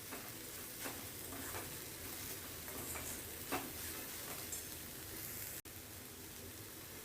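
Onion dry-roasts in a kadhai without oil, a faint steady crackle with occasional soft stirring scrapes and light taps, quiet and uninterrupted by speech.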